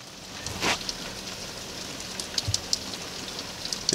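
Light rain falling outside, a soft continuous patter with a few sharper drops and small knocks, faint and fairly distant, with no voices.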